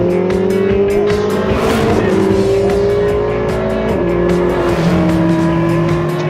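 A car engine roars steadily through a hard acceleration, pitch climbing and dropping with gear changes, loud and close from inside the car.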